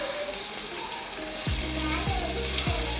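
Onions browning in a pan as tomato goes in, a steady close-up sizzle with a low tonal hum running underneath partway through.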